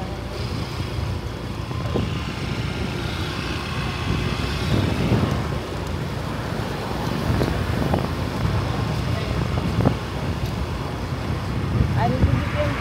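A rented motorcycle rides along in the open, with a continuous rumbling engine and wind noise throughout and people talking over it.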